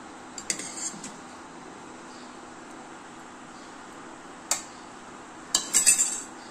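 Plates and cutlery clink while fried bitter gourd is served in a home kitchen: a few light taps early, a lone clink midway, then a quick cluster of brighter clinks near the end over a quiet room.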